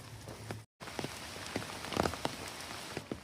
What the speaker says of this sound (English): It is raining, and it has been raining for a while.